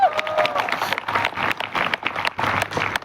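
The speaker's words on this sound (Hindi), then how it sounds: "तो रामवीर सर के लिए भी एक बार तालियां" A crowd at a direct-selling event in Kota applauds in a lively, uneven patter of many hands, with some voices mixed into the clapping.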